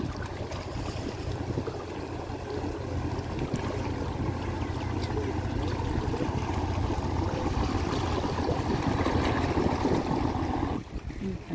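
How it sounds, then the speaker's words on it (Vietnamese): A ship's engine runs steadily at sea as the vessel heads in toward shore, a continuous low droning chug under wind and water noise, with no talking. "nổ máy nè, nổ máy đang chạy nè, có lẽ chạy vào bờ"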